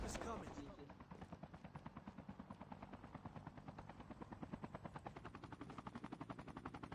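Helicopter rotor chopping steadily through a Call of Duty video game battle, its rhythmic thumping loud and continuous, with bursts of gunfire mixed into the game sound.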